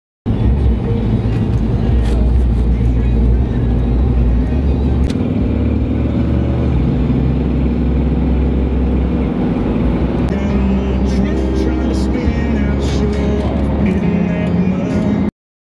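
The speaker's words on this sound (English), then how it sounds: "my truck's actually running." A Ford truck engine rumbles steadily at close range for the whole stretch, low and continuous, with brief clanks and a voice briefly speaking over it.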